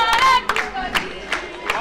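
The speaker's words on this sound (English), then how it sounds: "as the crowd sing his name" A crowd at a junior ITF World Tennis Tour singles final cheers and chants a rhythmic name in repeated bursts, with clapping in between and voices overlapping.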